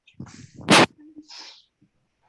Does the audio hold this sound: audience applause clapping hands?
no